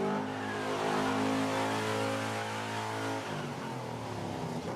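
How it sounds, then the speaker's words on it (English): A costly car on a film set rolls along under engine power, a loud, steady mid-pitched drone that dips slightly as it shifts near the end, with no voices. "Can we move this car over 5 feet"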